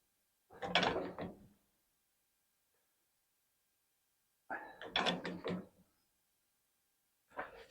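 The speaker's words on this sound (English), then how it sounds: "it produces quite a nice curve, the old bevel shear" An old bevel shear cuts steel plate for a horseshoe tank in separate close crunching strokes, each a rough grinding burst of about a second with quiet gaps between.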